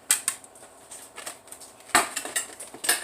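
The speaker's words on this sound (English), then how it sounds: "I'm just going to saute this in a little butter" Food sautéing in a little butter in a pan, with light sizzling under repeated metal clinks and scrapes of a utensil against the pan, close and fairly quiet.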